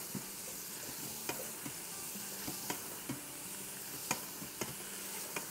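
Garlic and ginger paste frying in a pan for a soya chunks curry: a steady, soft sizzle and hiss with periodic light clicks of a spoon stirring against the pan, no voices.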